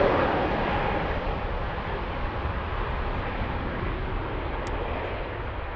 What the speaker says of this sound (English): This is Lufti Flight 7MU on its way to Krakow on an A320.